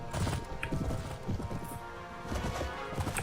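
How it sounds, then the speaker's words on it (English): Galloping horse hooves in the Mount & Blade Warband video game as the rider climbs uphill, a loud, busy run of clip-clop beats with scattered battle clatter. "I hate riding horses uphill"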